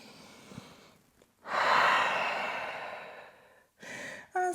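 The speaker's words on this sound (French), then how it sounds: "Grande respiration ici." One long, deep breath is drawn and released during a gentle vinyasa yoga session, a soft airy rush that swells, then fades, followed by a shorter second breath.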